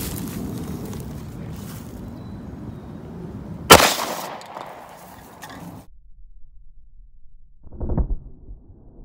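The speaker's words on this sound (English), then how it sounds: "next we move to the Smith & Wesson 357. We have a 38 special round in there." A Smith & Wesson .357 revolver loaded with a .38 Special round fires a single sharp, loud shot partway through, followed by a brief decaying rumble and then near silence.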